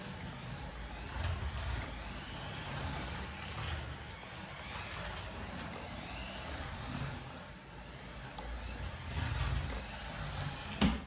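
A mini 1/43-scale all-wheel-drive RC car with a solid axle drives close by, giving a continuous whirring motor buzz. It has a choppy, uneven texture and slight surges as it turns.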